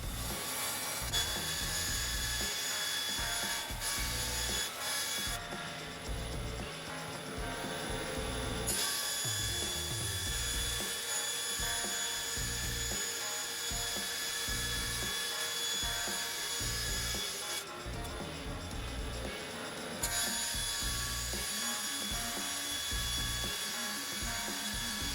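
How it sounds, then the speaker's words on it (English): A bandsaw cuts acrylic pieces to length, its blade running with a continuous broadband whir and rasp, briefly dropping in brightness twice as the cut changes, loud and close. "I'm just going to use my bandsaw here and cut them to length."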